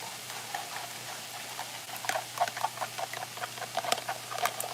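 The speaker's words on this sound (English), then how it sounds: "Lightly beat these eggs." Six eggs lightly beaten in a bowl, heard as a quick, irregular patter of close whisking taps and light clicks that picks up pace partway through, with no talking.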